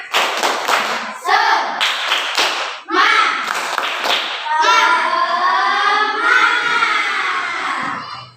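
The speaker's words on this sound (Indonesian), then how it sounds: "Dua kali lagi. Tepuk semangat." Schoolchildren perform the tepuk semangat spirit clap in class, short rhythmic clap groups punctuated by loud group chanting, close and lively, with the chant stretching out near the end.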